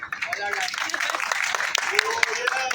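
A classroom of students claps for a short burst during a coding lesson, with scattered sharp hand claps over a room murmur while a voice talks across it.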